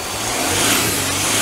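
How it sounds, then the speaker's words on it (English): A car engine revving hard up to full boost during fault diagnosis of a swirl pot motor, a loud close-up mid-pitched roar that swells steadily with no speech. "We'll give her a rev."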